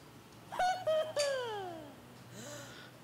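Cat meowing in the video game South Park: The Stick of Truth: a clear, drawn-out meow that slides downward in pitch, followed by a shorter, fainter mew, over a low steady hum.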